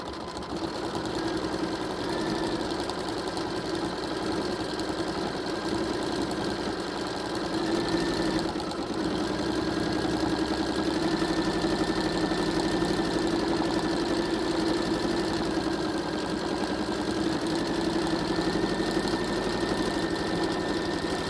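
A sewing machine stitches steadily while quilting appliqué sections on a small quilt, a continuous close mechanical hum and rapid needle rhythm running throughout with no pauses and no talk.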